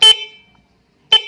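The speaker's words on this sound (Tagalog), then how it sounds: "Umiilaw siya at the same time, nagbubusina din siya." A stock horn on an MDL motorcycle, wired with relays so a passing light flashes with it, sounds two short, loud honks about one second apart with nothing else in the gap.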